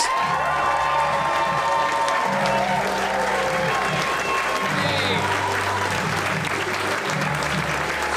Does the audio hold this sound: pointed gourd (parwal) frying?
no